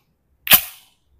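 A single sharp crack from a Stribog SP9A3SG replica pistol, one close shot with a quick decaying tail, isolated against silence.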